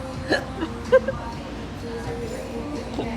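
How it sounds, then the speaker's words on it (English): A man hiccups while finishing a meal on a food tour in San Antonio, a few short sharp catches rising above a murmur of background voices. "And he's already got the hiccups."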